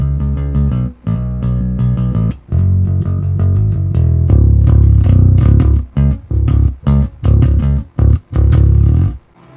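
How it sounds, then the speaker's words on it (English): Unprocessed bass guitar run through an Ampeg SV bass amp model, played as loud, full chugging rock riffs with sustained notes giving way to rhythmic stabs and short gaps, alone with no talking. "So right now, without doing anything, the bass sounds like this."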